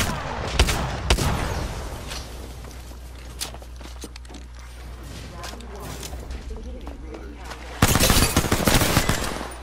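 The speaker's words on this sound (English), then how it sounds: "Taking fire." Gunfire during an Apex Legends match: sharp loud shots at the start and a heavy burst near the end, with quieter rattling and footsteps between and voices over it.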